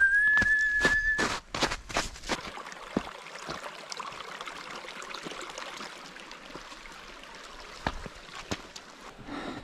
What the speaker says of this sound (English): I'm whistling because I'm nervous being in a woods